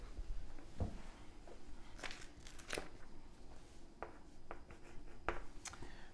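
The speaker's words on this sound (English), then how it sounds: "let me draw that a bit bigger" A pen writing and sketching a diagram on a board during a maths lecture on the exponential integral, heard as faint, irregular scratchy strokes and taps with pauses between them, fairly quiet and not masked by any talk.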